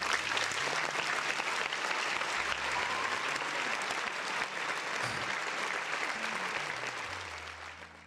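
A canned applause effect plays during a livestream, a dense crowd clapping and cheering that stays steady for several seconds before slowly fading.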